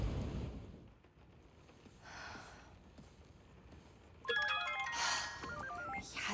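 A phone call rings out in the Spider-Man 2 video game as Peter dials MJ, a melodic electronic ringtone of stepped tones starting midway and repeating, preceded by quiet breathy ambience.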